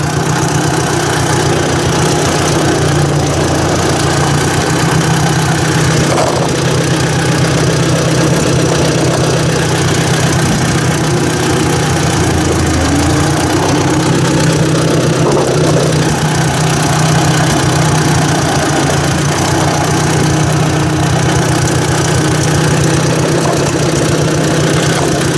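A Ford 800 tractor engine with a small exhaust leak at a coupling idles steadily and loudly for a long stretch, with a low rhythmic chugging and occasional knocks; no voices.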